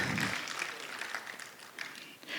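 An audience at a talk about the future impact of ChatGPT claps in a steady, moderately faint round of applause lasting a couple of seconds, a dense patter with no voices over it.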